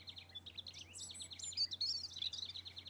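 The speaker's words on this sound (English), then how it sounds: "Here, here, here," chirped Mr. Redbreast joyously from the tree." A robin chirps in quick, bright bursts of high notes, lively and close, over a quiet low hum.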